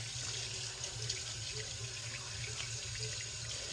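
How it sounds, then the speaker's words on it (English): Hands are washed under a running kitchen tap, a steady close rush of water splashing into the sink for several seconds with no talking. "Yes, I know I'm washing my hands."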